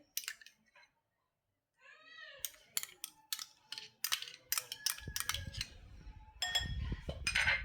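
Singhada flour dhokla batter with barnyard millet flour and curd is mixed by spoon in a bowl. Irregular metallic clinks and taps come after a quiet start and a brief warbling tone, with low rumbling underneath toward the end.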